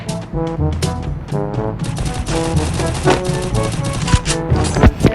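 Gunfire in the battle-royale game Garena Free Fire. Loud, rapid bursts of automatic fire and sharp shots crowd together over a dense game soundscape, with no speech.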